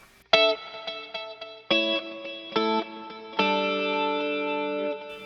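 A clean electric guitar plays a few ringing notes and chords through delay and reverb, each attack blooming into a long shimmering sustain, with the last chord held.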